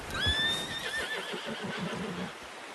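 A horse in the video game Red Dead Redemption 2 whinnies loudly and shrilly, the neigh falling and fading, followed by soft hoof clomps and rustling.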